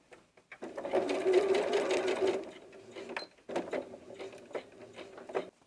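A sewing machine runs steadily for about two seconds and then in shorter bursts, stitching the small fabric tabs of a doll jumper dress with a quarter-inch seam and back stitches, close and clear with no talking.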